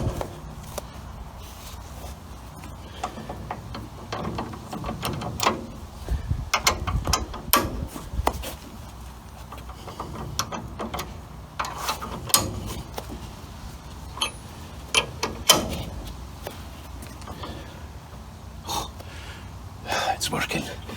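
A socket wrench turning on a ball joint of a 1936 Chevy coupe, with irregular ratcheting clicks, metallic clunks and knocks close by, accompanied by heavy breathing and muffled vocal sounds.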